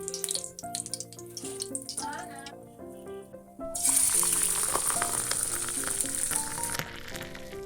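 Marinated chicken tikka pieces hit hot oil and set off a loud, bright, continuous sizzle about halfway through, while background music plays throughout.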